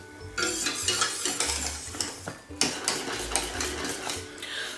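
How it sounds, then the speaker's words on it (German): A spoon stirs chocolate pudding mixture in a pot on the stove, making quiet, repeated scraping and clinking strokes against the pot in an uneven rhythm, close by with no talking. "Wichtig ist, dass ihr immer mal wieder umrührt,"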